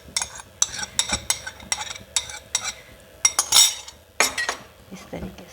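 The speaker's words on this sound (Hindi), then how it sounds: "अब हम इसमें ये जो हमने सूजी भिगोई थी ये हम इसमें शामिल कर देंगे इस तरह से हिला इस तरीके से" A spoon clinks and scrapes against a metal pot as soaked semolina is stirred into boiling milk, producing irregular close metallic taps and rattles with a brief swish.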